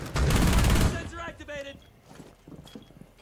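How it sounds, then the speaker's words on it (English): A flashbang grenade goes off in the video game Rainbow Six Siege, a loud, dense burst lasting under a second that fades into softer game noise, with a voice talking briefly afterward. "that's the new flashbang."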